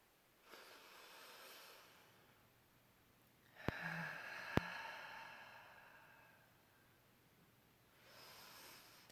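Slow, relaxed breathing during a guided new moon meditation, with soft broadband breaths rising and falling near the microphone and two brief clicks in the middle.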